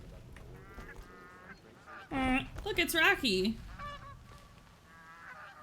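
Cartoonish goose honks from Untitled Goose Game burst out in a loud cluster of squawks over about a second, under and between casual talk from a player.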